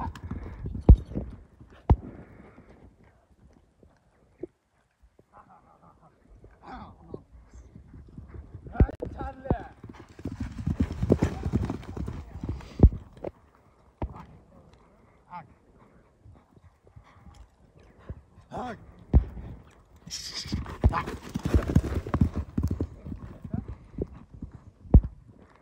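A horse on a farm trots and gallops in bursts of clip-clopping hooves, near and intermittent, while people talk and a dog sounds at times.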